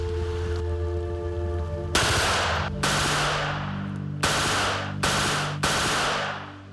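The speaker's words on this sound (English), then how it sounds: "This is a Czechoslovakian-made Scorpion machine pistol. It's capable of firing at a rate of" A Czechoslovakian-made Scorpion machine pistol fires several loud, sharp bursts in sequence. Each burst cuts off abruptly, and a steady low hum sits underneath, with no voices.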